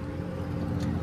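Tractor engine working corn stalks in a field, heard from inside the cab as a steady, loud low drone while the driver shifts up; no one talks.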